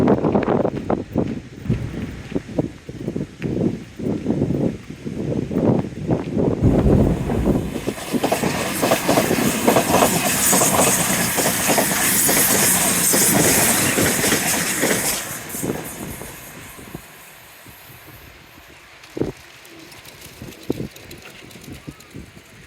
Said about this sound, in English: It's a happy train at Spray Point as well.